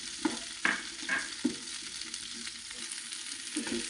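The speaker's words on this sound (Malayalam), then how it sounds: "നല്ല രീതിയിൽ തന്നെ ഒന്ന് ഇളക്കി കൊടുക്കാം." One sliced onion frying in a pan for a simple tomato curry, stirred with a steady close sizzle and a few sharp scrapes and knocks of the utensil against the pan.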